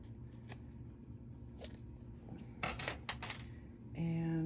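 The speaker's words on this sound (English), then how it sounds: "I'll cut a little piece." Scissors snip a small piece of bag material at a sewing table, giving several close, crisp cuts in a short irregular run, followed by a steady hum at the end.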